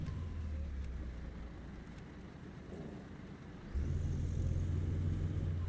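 Volvo truck engine in Euro Truck Simulator 2, a steady low droning rumble that grows louder and deeper partway through, with no talk.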